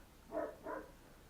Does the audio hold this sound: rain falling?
no